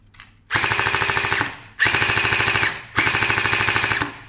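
MST AKS-74U gel blaster firing full auto in three sustained bursts of rapid mechanical rattling, each about a second long with short pauses between, loud and close with no talking.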